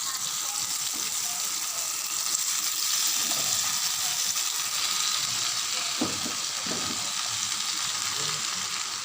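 Chopped spinach frying in a pan with a steady, loud sizzle throughout, a few stirring scrapes cutting in along the way.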